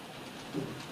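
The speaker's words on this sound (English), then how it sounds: "can you hear that rain?" Steady rain hisses in London in a dense, even wash, with a brief faint tone rising briefly partway through.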